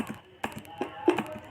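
A few light clicking key presses on a computer keyboard, including the Enter key, sounding as short, close taps spread unevenly over a moment of quiet.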